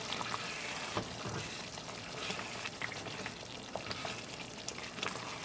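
Almond gravy sizzles faintly in a pan, with scraping stirs and soft bubbling throughout.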